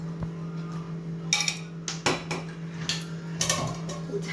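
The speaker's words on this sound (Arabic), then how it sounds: "وهي الفحمة مشغلة انا عليها بدي احطها بسم الله هون بقلب الزيت" Burning charcoal lowered into a small bowl of oil set among smoking potatoes, giving several brief clinks and knocks of metal and ceramic against each other, with faint crackle in between.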